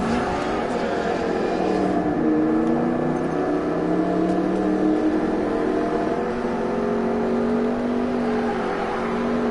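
A fast car races in Need for Speed Payback with a steady, loud, high-revving engine whine. The pitch climbs and holds through continuous acceleration, with no pauses.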